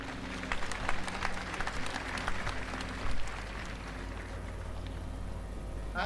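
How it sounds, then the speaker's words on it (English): A graduation audience at a Catholic university ceremony claps steadily in a large hall, a sustained, moderately distant wash of applause with a slight swell midway. "I invite you to applaud your family and your guardians who are here present"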